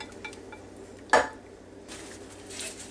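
A lid goes onto a cooking pot filled with beef chuck roast and vegetables, giving one sharp metallic clank amid near silence.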